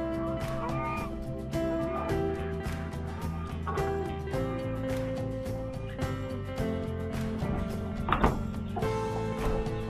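Hens and young chickens clucking and calling nearby, several birds overlapping in a steady busy chorus with occasional louder squawks.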